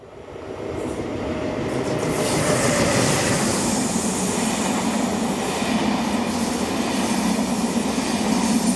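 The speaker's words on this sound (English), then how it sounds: "Here 1116263 heads a train from Vienna." A railjet passenger train from Vienna rumbles past steadily, its wheels and carriages producing a loud continuous roar with a faint metallic clatter, rising in the first seconds and holding.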